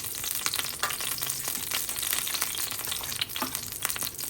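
Garlic paste frying in a pan while being stirred, a dense, loud, continuous sizzle with frequent scraping strokes, close and steady without voices.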